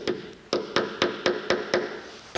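A hammer lightly taps a rivet on a window handle, about eight close, sharp, evenly spaced knocks in quick succession.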